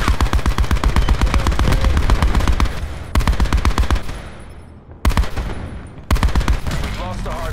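Machine gun fire in Black Ops 4: loud, close, rapid bursts of automatic shots in a fast regular rhythm, broken by brief pauses between a few long strings, with no talking over it.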